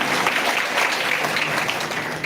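Steady, dense clapping from an audience at a Shrimad Bhagavat Katha religious discourse, filling the whole stretch at an even, fairly loud level with no break.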